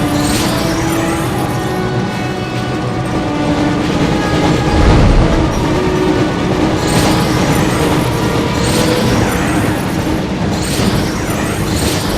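Train rushing past in the PS1 Harry Potter and the Chamber of Secrets game, a loud continuous rumble with clickety-clack rhythm, a surge in the middle and horn-like tones, with no talk over it.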